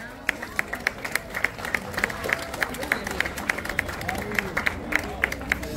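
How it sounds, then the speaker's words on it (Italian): At an autumn amateur cycling race, a small outdoor crowd gives scattered applause as a rider is announced, light clapping mixed with sharp, rhythmic taps and murmuring voices in the background. "Un applauso."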